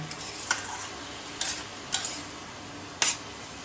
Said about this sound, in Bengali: সব কিছু দিয়ে আমি খুব ভালো করে কষিয়ে নেব।